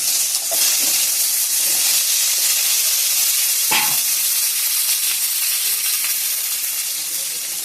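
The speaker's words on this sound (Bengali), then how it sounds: "এই তেলের মধ্যে এখন আমি আলুগুলো অল্প ভেজে নেব।" Diced potatoes frying in hot oil, a loud, steady broadband sizzle and hiss throughout, with a brief louder crackle near the middle.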